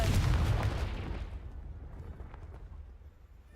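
A Confringo spell explodes in the Hogwarts Legacy video game with a loud, deep burst at the start that fades into a rumbling tail.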